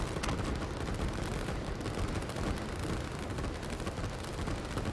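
Dense, continuous barrage of gunfire and explosions as helicopters attack structures in the strategy game Line War, a loud, unbroken rattle of shots and blasts throughout.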